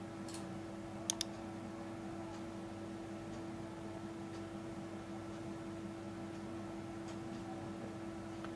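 A computer mouse clicks to save in YouTube Studio: a faint pair of sharp clicks early on, then a low steady hum of room noise and a few soft ticks.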